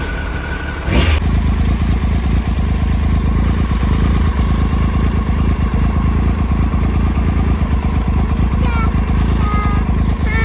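A motorcycle engine fired up for the first time this year, a loud steady idle with a mechanical clatter running throughout after a brief start-up burst, near and continuous.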